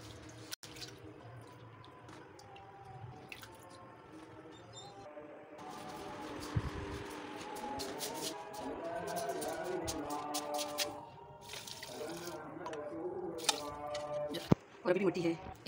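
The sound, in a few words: water dripping while washing coriander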